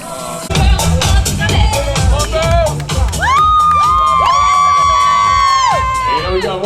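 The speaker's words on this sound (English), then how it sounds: "Clap your hands and make some noise for him." Spectators at a marathon finish line in Abu Dhabi cheer and whoop loudly, with high sustained shouts and bursts of claps close by, voices mixed into the crowd noise.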